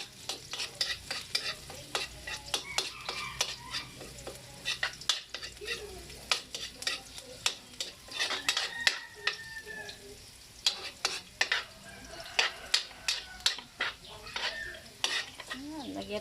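Vegetables being stir-fried in a pan for a Kapampangan dish, with steady sizzling and repeated sharp scrapes and clinks of a utensil against the pan throughout, fairly close.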